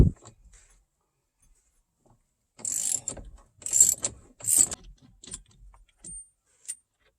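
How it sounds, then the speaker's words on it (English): A ratchet with a 24 mm socket loosens the steering wheel nut on a 2024 Ford Maverick, giving three short close bursts of clicking in quiet surroundings, then a couple of faint metallic ticks. "24 millimeter socket. And we're just going to take this off."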